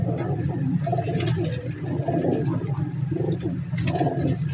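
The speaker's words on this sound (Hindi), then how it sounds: "माशाल्लाह सारे कबूतर नए परों में," Pigeons at the Shahdara bird market keep up a steady chorus of throaty cooing, several birds close together, with a brief sharper sound near the end.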